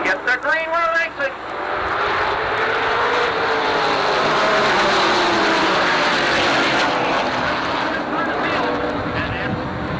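Late model race cars roar off at the green flag at Jennerstown Speedway, Pennsylvania, in 1988. A brief voice gives way to a loud, sustained, broadband engine roar that holds strong from start to finish.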